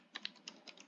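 A handful of quick, faint keystrokes on a computer keyboard while Python code is typed, soft and close with no talking.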